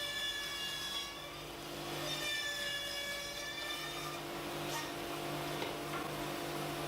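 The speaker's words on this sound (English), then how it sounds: "cutting the pine on the band resaw" Pine runs through a band resaw in a woodworking shop, a steady humming cut with a continuous tonal whine from the blade, heard close and moderately loud without interruption.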